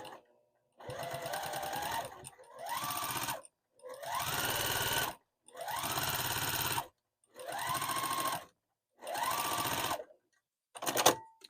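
A sewing machine quilting an oven mitt runs in six close, loud bursts of rapid stitching, each lasting about a second, separated by short silent pauses.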